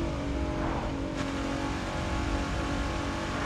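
A Nissan GTR in The Crew 2 drives at a steady, loud engine roar, a continuous droning tone with no break and no speech over it.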